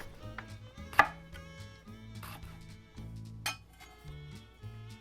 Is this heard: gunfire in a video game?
no